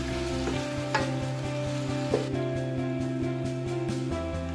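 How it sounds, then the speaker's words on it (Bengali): Onions fry in a pan for mutton rezala, a steady, loud, continuous sizzle with occasional stirring scrapes and light knocks throughout. "আমার পেঁয়াজটা ভাজা হয়ে গিয়েছে।"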